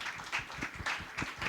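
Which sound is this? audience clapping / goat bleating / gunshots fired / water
audience clapping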